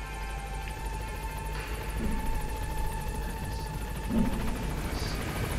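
A helicopter in Metal Gear Solid V approaches a pickup point at night, its steady rotor chop and engine drone holding constant throughout, moderately loud with faint higher whines drifting above.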